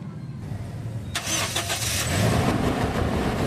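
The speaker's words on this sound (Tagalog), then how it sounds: "pa-start ko na kay customer itong makina" A Toyota Innova engine is started after brake master cylinder cleaning during maintenance. A quiet moment gives way to the crank and catch, then the engine settles into a steady, close idle.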